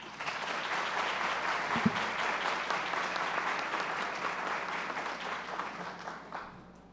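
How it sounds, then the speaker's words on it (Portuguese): Audience applause at a Brazilian consumer law congress, a steady dense wash of clapping from a large hall lasting throughout, fairly loud and even, with no talk over it. "Com os nossos aplausos"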